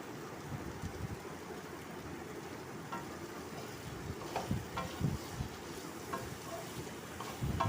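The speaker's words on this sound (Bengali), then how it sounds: "ফ্লেমে ভালো করে কষিয়ে নিচ্ছি।" Spices and potatoes sauté in oil in a pan on a Bengali home stove, giving a soft, steady sizzle with scattered stirring scrapes and crackles over a faint background hum.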